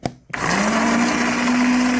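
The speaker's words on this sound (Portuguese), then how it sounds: "Eu já tenho aqui os ovos no liquidificador, tá espumoso assim porque eu bati" Electric kitchen blender whipping eggs and sugar into coconut cake batter starts with a click, then spins up into a loud, steady motor whine that holds at constant pitch.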